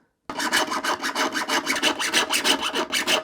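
A small plastic hand drill grinds through a gummed-up spot, giving a loud, continuous rasping scrape in quick repeated strokes that begins after a brief silence.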